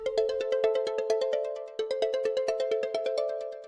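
A Librem 5 phone ringtone plays alone as a bright, repeating electronic melody of quick evenly spaced tones, with a short break midway before the pattern starts again.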